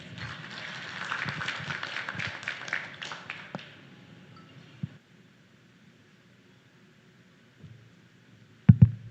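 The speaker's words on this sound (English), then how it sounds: "let's give a round of applause for Dante Clink Ang II" An audience at a business forum on growing small enterprises applauds a speaker, with clapping loudest at the start that thins out after about four seconds into near silence, then a couple of sharp knocks at the end.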